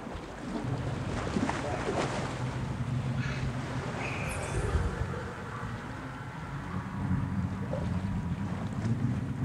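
Sea-and-boat ambience in a video game: continuous wind and sea wash with creaking, sailing-ship texture, steady and moderately loud throughout.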